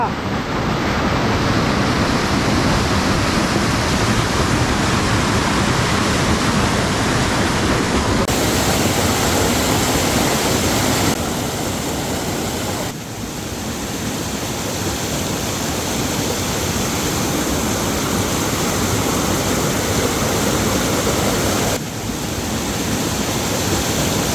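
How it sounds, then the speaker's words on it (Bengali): Bandar Khum waterfall swollen by heavy rain, a loud, unbroken roar of rushing water with wind buffeting the microphone, close and overwhelming throughout. "বান্দর খুম যে ঝর্ণাটা"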